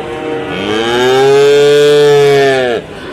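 A young bull calf, one of a row of male calves, gives a single loud, close moo lasting about two seconds that rises and holds before cutting off, over quiet background noise.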